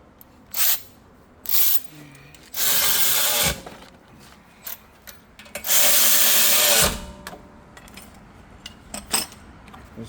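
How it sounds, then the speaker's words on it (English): A power drill drives bolts in two short whirring bursts during rear brake work on a 2020 Hyundai Kona, with scattered metallic clinks and clanks from tools in the quiet gaps between. "And I'll hit them with the drill."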